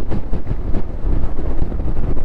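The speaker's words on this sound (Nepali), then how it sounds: "हावा फेरि यस्तो डेन्जर चल्छ नि" Strong, dusty wind in Nepal's Mustang region near Jomsom roars and buffets the microphone in heavy low gusts, a loud, continuous rumble with no voices.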